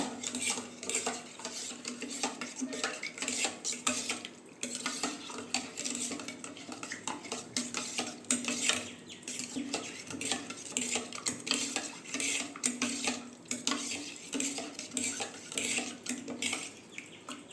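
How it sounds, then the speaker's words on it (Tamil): A spoon stirs gelatin powder and water in a bowl for jelly candy, a steady rhythm of scraping clinks and swishes against the dish, close and continuous, with no talk. "தண்ணி சேர்த்து நல்லா மிக்ஸ் பண்ணிக்கோங்க."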